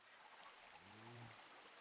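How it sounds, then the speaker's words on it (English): Steady rain falling in the Minecraft video game, a soft continuous hiss of drops spread evenly throughout, fairly quiet, with a faint low tonal hum passing briefly underneath. "It's raining."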